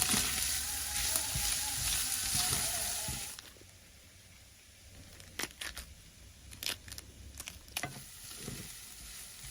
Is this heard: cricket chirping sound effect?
no